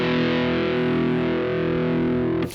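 Electric guitar power chord played through heavy distortion, a thick sustained buzzing tone held loud for over two seconds before being damped to a sudden stop.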